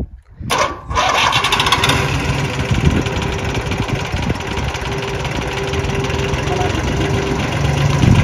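A vintage 1990s motorcycle engine cranks and catches after a brief sharp start, then settles into a loud, steady, rough idle that runs close by for several seconds with no clear talk.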